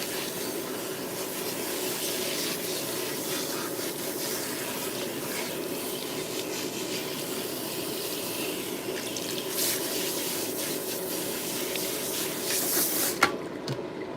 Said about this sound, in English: Rinse out a lot of this buildup that I see on her scalp.